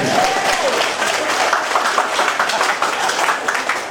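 Crowd applause at a gathering in Ruteng, Manggarai, thick continuous clapping from many hands with a few distinct claps and faint voices in the mix, loud and close throughout.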